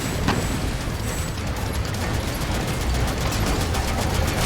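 Rapid continuous gunfire shooting down missiles in the Sand Land video game, a dense, loud crackling barrage with no pauses across the whole stretch.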